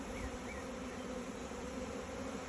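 Honeybees buzz around a hive in a steady, dense drone that holds evenly for a couple of seconds, fairly close.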